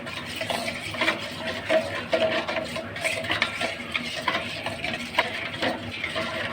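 Amchur powder and a spoonful of salt stirred together in a bowl for stuffed chillies, a steady close scraping and clinking of spoon against dish with a few sharper knocks, no talking.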